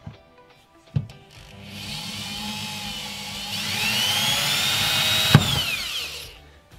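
A hammer drill with a small bit spins up with a sharp tap, whines steadily for several seconds while boring in hammer mode, then stops after another knock and winds down.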